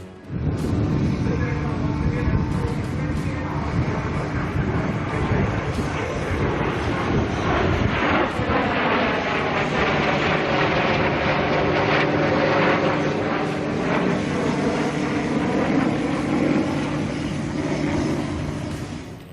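A B-1B Lancer bomber roars overhead at an air show in Bengaluru, a loud, sustained jet rumble with a sweeping pitch shift as it passes.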